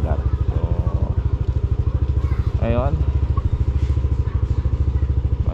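A Yamaha Aerox V3 scooter engine runs steadily at idle with a fast, even putter throughout, close by, while someone talks over it.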